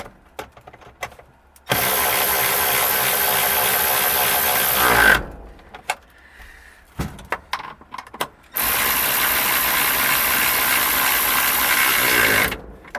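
Ratchet wrench tightening the fan bolts during a heater core replacement on an old barn-find car, two long bursts of rapid, loud clicking separated by a gap of quieter knocks and handling noise.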